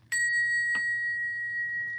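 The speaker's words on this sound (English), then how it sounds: "Let's ring the bell." A small bell rung to cleanse energy, two bright clear strikes close together, each leaving a long pure ringing tone that fades slowly across the stretch.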